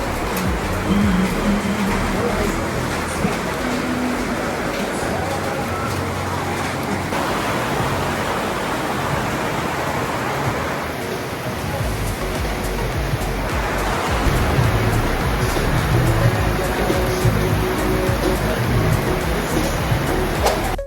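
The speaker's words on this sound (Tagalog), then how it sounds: "Kung maririnig ninyo, napakalakas talaga ng buhos ng ulan." Heavy rain pours down in a dense, continuous roar, loud and steady, heard from a sheltered stairway at cabins in Magalang, Pampanga, with faint voices underneath at times.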